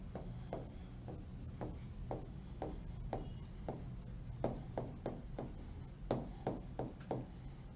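Chalk or a marker writes during a Hindi ecology lesson, a series of short, regular scratching strokes, some quicker in bursts, fairly faint over a steady background hum, with no voice.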